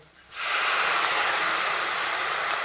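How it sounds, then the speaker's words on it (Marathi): Sprouted moth beans hit a hot pan of spices over medium heat, setting off a sudden loud, steady hiss of sizzling that fills the kitchen after a brief quiet start and holds strong without talk. "आता आपण याच्यात मटकी टाकूया"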